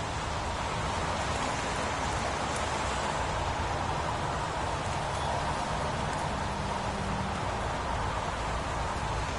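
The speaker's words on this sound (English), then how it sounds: "Goddamn rain. Hasn't stopped pouring since I arrived." Heavy rain in a video game pours steadily without pause, a dense even hiss of countless drops striking surfaces, with no voices.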